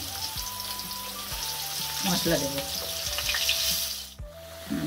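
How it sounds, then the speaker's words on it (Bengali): Steady loud sizzling of potatoes frying in hot oil, with occasional stirring and a brief pause near the end; a voice speaks briefly over it. "আলুগুলো একটু ভালো করে ভেজে নেব"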